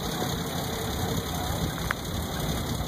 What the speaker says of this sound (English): 1913 Studebaker again.